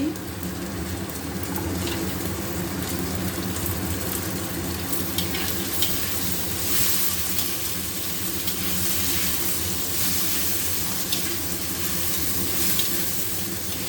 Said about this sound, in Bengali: চালটাও একটু লাল লাল করে ভেজে নেব। এখানে 2-3টে তেজপাতা দিয়ে দেব, কাজু কিশমিশ দিয়ে দেব